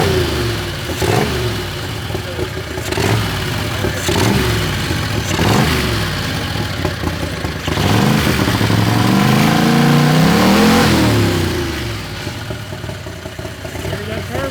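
A Predator 670 turbo dragster engine cranks and fires, then revs repeatedly in loud, rising bursts with a sustained high rev near the end, close to the microphone.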